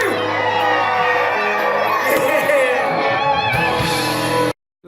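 A concert crowd screams and cheers in a dense, loud roar of mixed voices and whoops for several seconds before cutting off abruptly.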